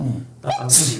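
A single sneeze cuts through a tabletop board game session with four players, preceded by a short murmur and followed by brief talk nearby.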